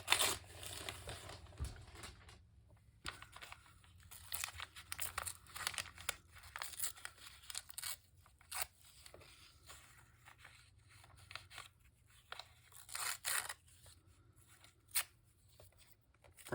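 Brown paper is torn and crumpled up close in irregular bursts of crinkling and ripping, separated by short pauses, with no voices over it.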